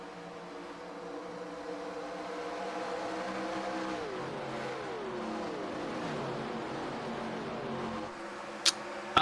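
Race cars in the iRacing video game, a Yankee 600 race, passing by: a sustained engine drone that rises and falls in pitch as cars sweep past, moderately loud, with a couple of sharp clicks near the end and no talk.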